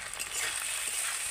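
Onion, ginger-garlic paste and tomato frying in a pan, a steady close hissing sizzle throughout with faint crackles and no talking.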